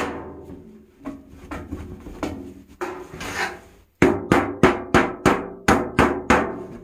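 A thin tin can being punched with holes by hammer blows, a slower irregular set of knocks giving way to a steady run of about nine sharp, close metallic strikes with no talking.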